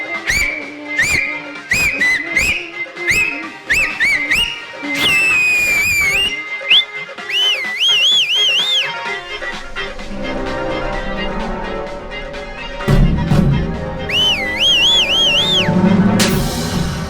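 A man wolf-whistles at a woman with repeated sharp, sliding whistles that rise and fall, heard close and loud over a background of music and ambient noise.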